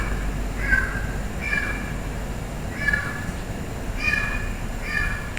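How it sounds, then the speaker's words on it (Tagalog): A cat meows several times at intervals, thin and fairly distant, over a low background rumble. "Naririnig yung pusa guys."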